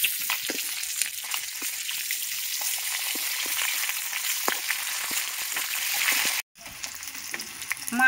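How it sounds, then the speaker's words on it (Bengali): Fish pieces fry in hot oil, turned over to brown the other side: a steady close sizzle with small crackles and scrapes, broken by a brief silence near the end before frying resumes. "আর একদিক উল্টে পাল্টে ভালো করে ভেজে নেব"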